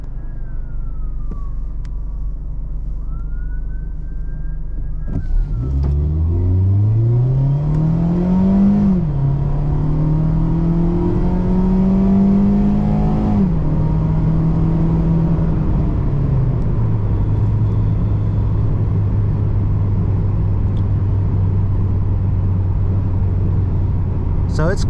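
A 2016 Mazda MX-5 Miata launches hard in sport mode. Engine pitch climbs steeply through the gears, with brief dips at each shift, then settles into a steady cruising drone. Heard from inside the cabin, loud and close.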